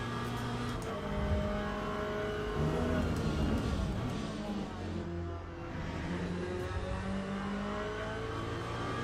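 A race car engine in the sim racing game Le Mans Ultimate drones steadily at high revs, with gear shifts and slight pitch dips mid-run, loud and continuous throughout.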